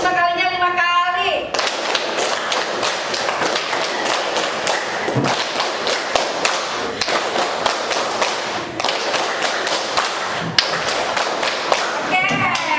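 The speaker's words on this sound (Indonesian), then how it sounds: "Oke, tepuk 5 kalinya 5 kali." An icebreaker group claps together in a steady, rapid rhythm, loud and close, continuing for about eleven seconds after a short spoken lead-in.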